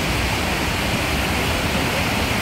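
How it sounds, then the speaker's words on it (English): Steady, loud rushing roar of the waterfall on Fishkill Creek beside a patio in Beacon, New York, a continuous broadband wash of water with no voices over it. "The highlight of this place for sure is the adjacent waterfall, which is part of Fishkill Creek."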